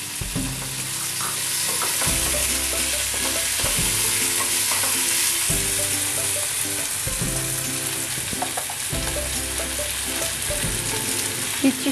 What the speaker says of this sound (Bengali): পেঁয়াজটা হালকা ভাজা ভাজা হলে আমি এতে টমেটোটা দিয়ে দিলাম।